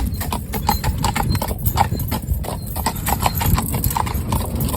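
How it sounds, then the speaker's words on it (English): A Friesian stallion's hooves clip-clop in a steady, brisk rhythm on a hard surface, close by, over a low background rumble. "But a lovely, lovely, lovely big horse"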